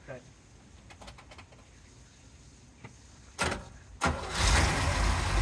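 A 1963 Corvette split-window with a 327 V8 and four-speed sits quiet with faint clicks, then the starter cranks briefly and the engine catches, settling into a loud, steady idle.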